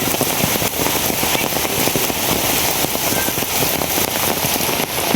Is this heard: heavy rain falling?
yes